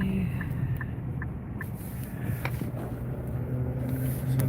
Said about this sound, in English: So that's the last stretch of traffic I'm gonna hit